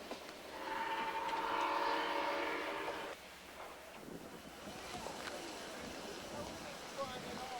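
A train sounds a drawn-out horn in a former silver-mining town, then rumbles along steadily after the horn stops, with narration heard over part of it.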